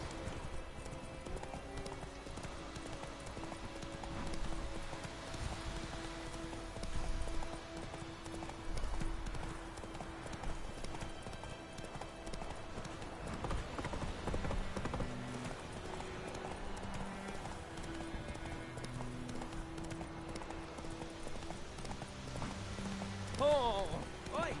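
Horse hooves clip-clop in a steady walking rhythm in The Witcher 3 on the Death March difficulty, with rain pattering and game music underneath and someone talking over much of it.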